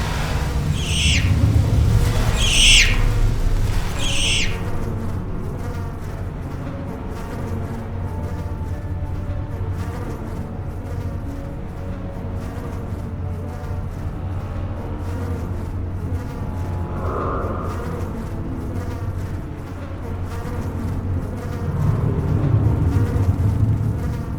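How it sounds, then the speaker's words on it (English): Swarm of bees buzzing around a hive in the video game Tesla Effect: A Tex Murphy Adventure, a steady low droning hum that fills the whole stretch, with a few sharper chirps early on and no voices. "there's no way I'm strolling casually through there with all these bees buzzing around"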